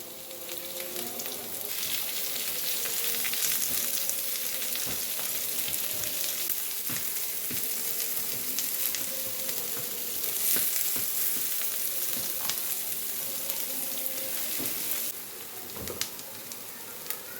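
Onions sizzling and frying in a pan, a continuous close hiss with occasional stirring clatters and taps, no voices over it.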